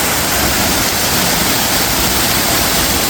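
A small waterfall on the Siripada hiking trail along the Palabaddala route near Ratnapura, running low in the off season, gives a steady, dense rush of falling water that holds evenly throughout with no voices.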